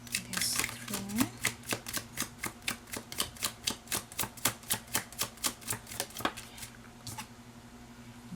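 A deck of tarot cards is shuffled and drawn, making a close, even series of crisp card snaps and riffles. The steady rhythm fades toward the end, and faint voices are present.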